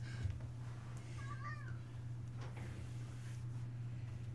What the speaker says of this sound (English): This is the studio cat.